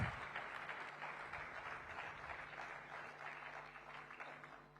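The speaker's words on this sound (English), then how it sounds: "Come on, Mumbai, we can be much more kind with our applause." Applause from a convention audience in Mumbai, a broad steady patter of many hands that starts strong and holds at moderate level throughout, with a faint low hum beneath.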